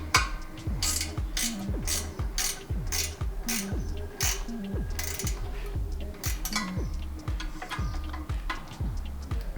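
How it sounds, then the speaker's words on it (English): A ratchet wrench tightens intercooler bolts on a Hyundai Veloster N, with steady rapid clicking in repeated strokes, close and clear, with a few metallic knocks between. "Okay, so now we can tighten those bolts."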